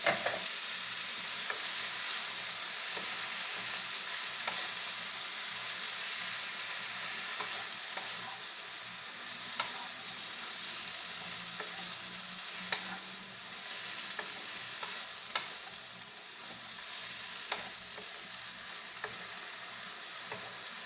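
Vegetables for tortang patola frying and being stirred in a pan, a steady close sizzle with sharp utensil scrapes and taps recurring throughout, no talking.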